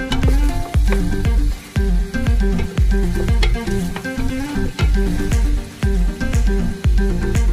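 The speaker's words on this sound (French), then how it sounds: "je vois la viande commence à bouillir, je rajoute l'huile" Meat for Central African ngoundja frying loudly in freshly added oil, a dense crackling sizzle broken by repeated rhythmic knocks and scrapes of stirring, very close and loud throughout.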